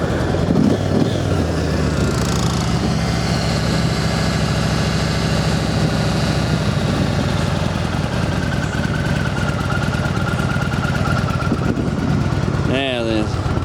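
Yamaha Road Star motorcycle engine idling steadily with the choke partly pulled on a cold start, a continuous low rumble running nearly the whole time, close and loud, with a brief rising rev or squeal near the end.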